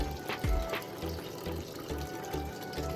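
Water pours and splashes into a pot of homemade chicken biryani while it cooks. The stream sounds close and steady, runs through the whole stretch with a faint underlying hum, and no one talks.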